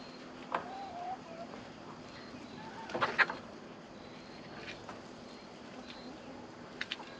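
Hens clucking in a backyard flock, a few soft scattered clucks and calls over a steady outdoor hum, with a louder cluster midway.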